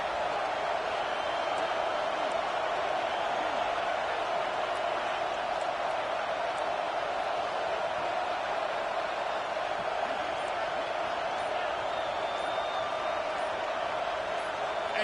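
A college football stadium crowd during Oregon State versus Washington roars in a constant, dense wash of noise that holds steady and loud throughout, with no breaks or distinct voices standing out.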